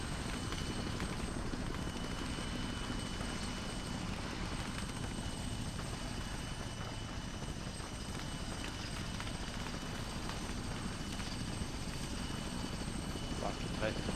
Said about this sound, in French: Par contre on entend l'hélico qui commence à traiter